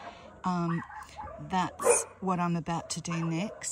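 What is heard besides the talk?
neighbours' dogs barking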